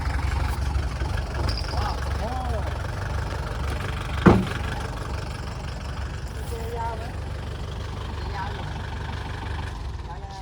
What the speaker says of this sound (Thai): รถไถมาช่วยแล้วครับ